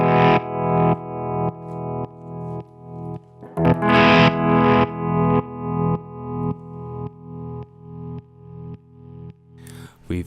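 Les Paul guitar through a Dark Waves tap tempo tremolo pedal on its ramp-up waveform, sustained chords pulsing in repeated swelling volume cycles that rise then cut off sharply, with a strummed chord change midway.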